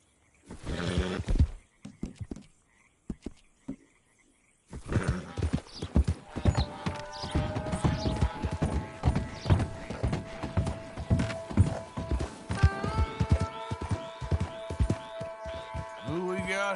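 Horse hooves clip-clop steadily in Red Dead Redemption 2, a rhythmic trot that starts after a few brief sounds and a short silence, with a horse whinny, game music and occasional talk over the hoofbeats.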